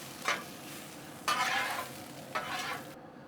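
Peppers and onions stir and sizzle on a hot Blackstone griddle, with three scraping, frying bursts of a second or so each over a steady low background hiss.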